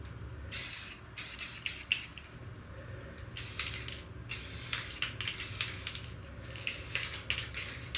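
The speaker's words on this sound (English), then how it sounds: "More spray paint." Bursts of hissing spray from a spray paint can coating a countertop, several short and longer blasts with brief pauses between, close by over a low background hum.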